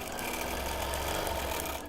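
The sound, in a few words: sewing machine rattling in the bobbin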